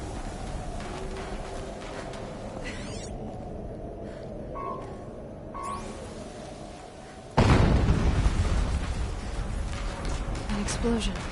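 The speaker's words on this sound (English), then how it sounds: "An explosion." Horizon Zero Dawn Remastered gameplay explosion: a sudden heavy boom about midway hits over continuous rumbling game noise and bursts of speech, then a loud dense roar that stays up to the end.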